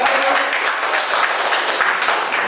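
Audience applause at a live talk event, a dense, steady wash of many hands clapping throughout, fairly loud and sustained without a break.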